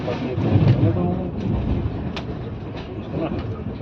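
Shatabdi Express passenger train (12001, New Delhi route) running on rails between Bhopal and Gwalior, a loud steady rumble heard from on board with faint periodic wheel clacks over the joints.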